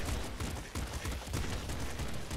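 Trop Gun firing in Nuclear Throne Ultra Mod, a rapid burst of crunchy game shots in quick succession over busy in-game noise.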